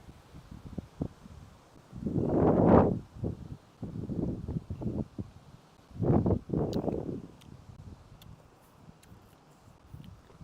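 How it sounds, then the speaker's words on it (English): Gusts of wind outdoors buffet the microphone in two strong surges, a longer rush early on and another a few seconds later, with lighter rustling between them. "Well, here comes a gust."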